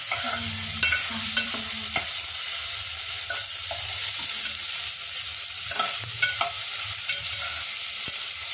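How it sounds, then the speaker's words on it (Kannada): Chopped tomato sizzles steadily in a hot pan while a spoon scrapes and stirs it in repeated strokes, close and continuous with no talking. "ಈ ಟೊಮೆಟೊ ಹಾಕ್ಕೊಂಡು ಅದನ್ನು ಸ್ವಲ್ಪ ಫ್ರೈ ಆಗಬೇಕು"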